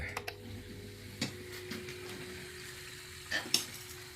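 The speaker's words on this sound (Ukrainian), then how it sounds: "Ото підвиває насос сімочка. А це ще повітря." A circulation pump in a boiler-room heating system with air trapped in it gives off a steady, faint whine, broken by a few soft ticks and gurgles.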